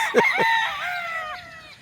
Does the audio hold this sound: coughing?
no